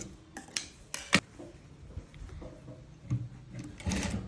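A sewing machine stitching a model frock, with short bursts of mechanical clatter and ticking separated by pauses, heard close up with no talk.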